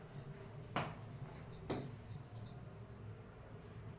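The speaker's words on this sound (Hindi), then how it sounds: "यहां इसको मिटा के लिखते हैं" Two quick swipes of an eraser across a classroom board, spaced under a second apart, over a steady low room hum, close but quiet, with no talking.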